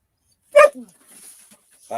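A dog gives a single sharp bark up close, followed by softer whimpering sounds in an otherwise quiet setting.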